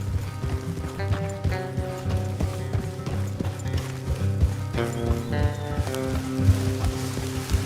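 Horse hooves clip-clopping in the Red Dead Redemption video game, a steady rhythmic trot running under a layer of tonal game music and background ambience.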